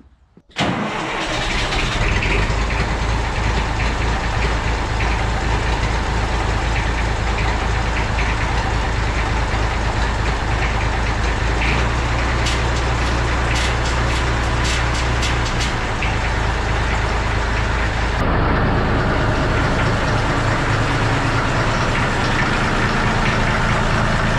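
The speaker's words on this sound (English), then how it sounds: "Okay, so fuel pump has been installed. Let's see if we can start her up." A Massey Ferguson 35X tractor engine cranks and fires just after a short silence, then settles into a loud, steady idle that runs on for over twenty seconds, with a brief change in tone near the end.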